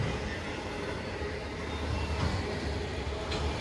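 An old Burlington Northern locomotive and a Providence and Worcester unit lead a freight train past Voorheesville, giving a steady broadband rumble and rolling clatter that holds even and fairly loud throughout.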